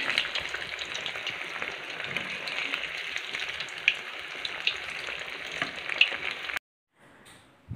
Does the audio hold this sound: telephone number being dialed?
no